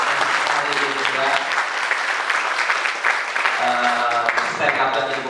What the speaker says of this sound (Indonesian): kita berikan aplaus ya buat hari ini juga